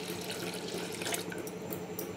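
Hot water pours into a cooking pot of mixed dal with drumstick, a continuous close splashing stream with small drips over it, steady and moderately quiet, no talk.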